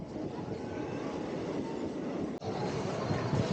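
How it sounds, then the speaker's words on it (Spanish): A commuter train in India rolls along with its doors open, a loud, steady roar of wheels and wind, rumbling continuously with a brief dip partway through. "Estos trenes son como cercanías que tenemos y las puertas se quedan abiertas siempre"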